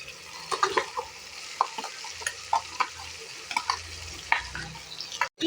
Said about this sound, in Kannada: ಈಗ ನಾವು ಹಾಕೊಂಡಿದ್ದ ಪೇಸ್ಟ್ ಎಲ್ಲ ಸ್ವಲ್ಪ ಎಣ್ಣೆ ಒಳಗೆ ಫ್ರೈ ಆಗಲಿ